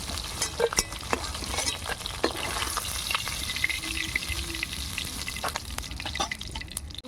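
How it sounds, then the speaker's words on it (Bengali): Fish frying in a pan for a fenugreek greens curry, a constant crackling sizzle with occasional scrapes and knocks of a utensil, plus a faint watery drip, no one speaking. "মাছগুলো ভেজে নেব"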